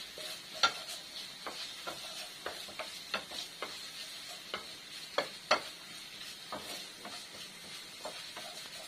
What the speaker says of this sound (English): Then fry the onion.